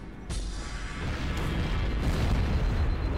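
Explosion in Halo: Combat Evolved, a deep rumbling boom that starts with a sharp onset and rolls on heavily for a few seconds, loud and close, with no talking.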